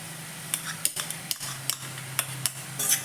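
A spoon stirs a corn and carrot vegetable salad in a pan, with soft scraping and sharp clinks that repeat at an irregular pace. No one speaks.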